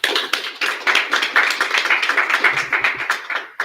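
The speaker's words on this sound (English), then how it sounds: "let's give them a round of applause again" Audience applause at a conference talk, a dense, steady round of clapping close by that carries on for several seconds before tapering off, with no voices over it.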